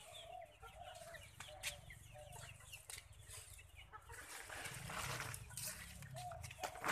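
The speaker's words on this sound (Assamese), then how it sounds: "এইফালৰ দুই এটা আছে মুৰ্গী।" Local chickens on an Assam farm cluck softly in short scattered calls over a faint, busy outdoor background, the sound quiet and distant.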